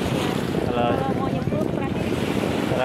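Strong sea wind on Untung Jawa island buffeting the microphone, a constant roar mixed with surf and water sounds, faint voices underneath.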